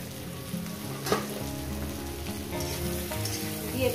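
Okra and potatoes fry in spiced oil in a pan for a fish curry, a continuous close sizzle with light crackles and a few stirring knocks.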